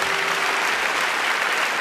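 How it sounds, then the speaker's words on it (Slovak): Steady, dense audience applause at an evening reading event, loud and continuous throughout with no voices over it. "obrovský potlesk, samozrejme"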